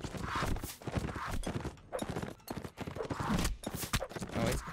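A horse gallops in the video game Mount and Blade Warband, its hooves drumming in a rapid, steady clip-clop that stays close and fairly prominent for several seconds with no voices.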